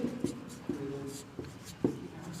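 Chalk writing on a board during a Class 10 physics lesson on lenses, a few quiet scratchy strokes and taps at irregular intervals, close and soft.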